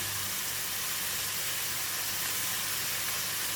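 Chili hitting a hot pan for mapo tofu gives a steady, loud hiss and sizzle that fills the clip without a break, close up and alone.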